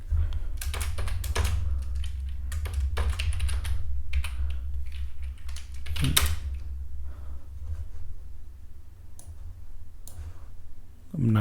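Rapid keystrokes on a computer keyboard while coding a React and Tailwind CSS login page, a steady clatter of clicks running throughout over a low background hum.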